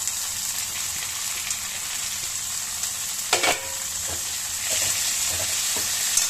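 Onions sizzle steadily in a hot pan, with a brief clatter partway through as tomatoes and green chilies go in and the frying picks up again.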